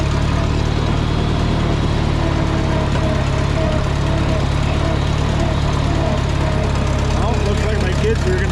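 A tractor engine with an exhaust leak idles steadily and loudly nearby, a low rumbling drone with a rough exhaust note, while someone talks over it.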